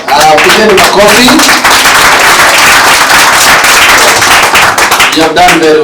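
A crowd claps loudly at a talent search event with judges present, a dense, continuous burst of applause lasting several seconds, with voices heard briefly at the start and end.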